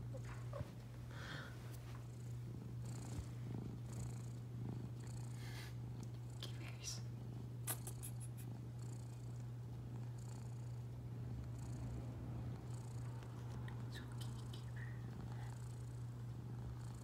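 A pet cat purrs close up with a steady, continuous low rumble lasting throughout, with faint quiet murmuring and a few small rustles over it.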